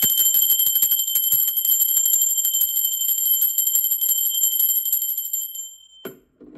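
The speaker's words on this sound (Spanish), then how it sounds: "Va campana." A small bell rings continuously with a bright, rapid metallic trill for about six seconds, then stops abruptly, followed by a faint clunk.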